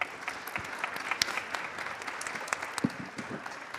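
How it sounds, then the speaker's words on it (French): Audience applause at a Paris conference talk session on decarbonising transport, a dense crackle of many hands clapping steadily at moderate volume for about four seconds with no voices. "Je pense qu'on peut leur faire un tonnerre d'applaudissements."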